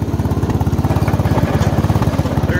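A small push mower runs steadily close by, its engine putting out a rapid, even chugging pulse as it cuts a yard, loud and continuous with no voices.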